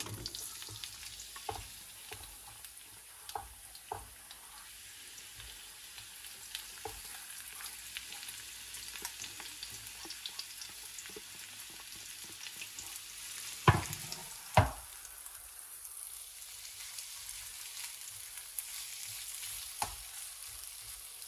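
Meat browning in olive oil in a pan for tortilla lasagna, a soft steady sizzle with scattered stirring clicks and two sharper utensil knocks midway, fairly quiet and with no talking.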